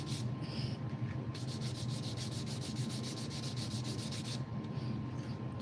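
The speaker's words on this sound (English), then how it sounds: "We're not done sanding there" Hand sanding of a Sapele wood knife sheath being shaped, a steady run of quick back-and-forth rasping strokes, close and fairly loud with a short pause between bursts.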